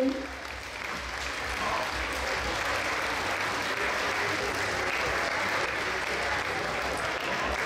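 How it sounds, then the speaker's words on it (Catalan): Sustained audience applause at a town festival concert in Puig-reig, a broad, even wash of clapping that holds at steady volume from start to finish. "Jo voldria donar un fort aplaudiment per l'AFA"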